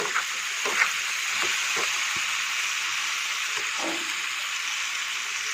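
Salted tomato sautéed in a pan with garam masala, sugar and ground dried chilli gives a soft, steady sizzle with occasional light stirring taps, close but moderately quiet, no talking.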